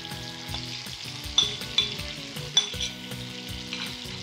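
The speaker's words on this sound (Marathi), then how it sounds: "हलकासा 4 ते 5 मिनिटं तेलामध्ये फ्राय करूया" Spice masala frying in oil on a griddle beside brinjals for Khara Vanga, a steady close sizzle with clinking and scraping strokes of a spatula against the pan, a few sharper knocks landing at intervals.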